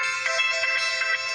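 An electronic phone ringtone signals an incoming call, a bright looping melodic tone that plays continuously and loudly on its own without talk.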